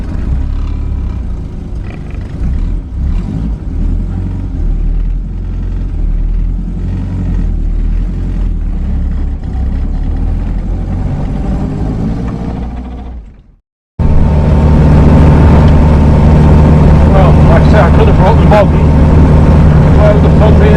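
Engine of a classic Ford Anglia, E494A, running steadily with a low rumble, then a brief cut to silence before a louder, fuller engine note returns close by.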